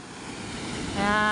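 Rough sea waves surge during a typhoon, a broad roar of surf and wind that swells louder toward the end, joined by a steady tonal hum.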